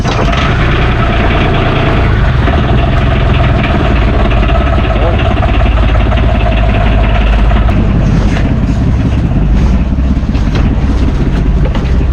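A boat engine on a Filipino fishing trip runs steadily at idle, a loud, rough, continuous low drone with voices faintly mixed in.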